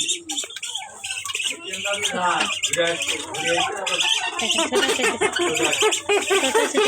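Birds squawk and chirp in a dense, agitated chorus as they fight, loud and continuous, with voices talking over the commotion.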